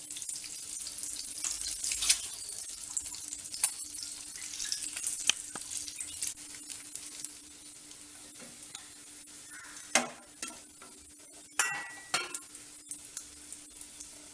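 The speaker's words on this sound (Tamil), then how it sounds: "லேசாக முழு முட்டை லேசாக ரோஸ்ட் பண்ணிங்கன்னா போதும்" Whole eggs fry lightly in oil in a pan for egg curry. A soft, continuous sizzle runs underneath, with stirring scrapes and a few sharper clinks and splashes later on.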